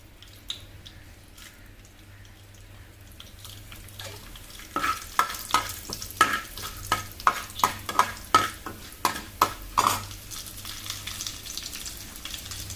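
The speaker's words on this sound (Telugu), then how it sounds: "ఇప్పుడు నూనె వేడెక్కిందండి, మనం ఇందులోకి పోపు దినుసులు వేసుకుందాం" Tempering spices such as cumin and dried red chilies dropped into hot oil, a quiet start giving way to close, rhythmic sizzling pops and stirring clinks that repeat steadily for several seconds.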